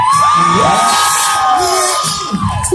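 A drag show audience screams, whoops and shouts loudly and continuously, with high cheering voices swelling and falling close by throughout.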